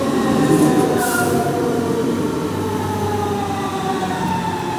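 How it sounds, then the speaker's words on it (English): S-Bahn commuter train pulling into a station, a steady rumbling roll with faint squealing tones above, continuous and fairly close with no talk. "There is a train coming."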